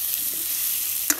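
Eggs fry in a hot pan with onion and green chilli in a loud, continuous sizzle, with one short stirring scrape near the end.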